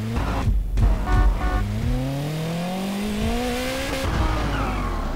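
A race car in GTA San Andreas revs and accelerates, its engine pitch climbing through rising gear sweeps, with brief tire squeals and skids near the start; loud and close, no speech.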